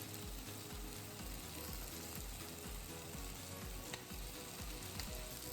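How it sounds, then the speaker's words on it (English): Yakitori chicken skewers sear on an open grill with the lid off, giving a steady, dense sizzle and crackle that holds at an even level throughout, with no voices. "grill it without the lid to get the perfect sear"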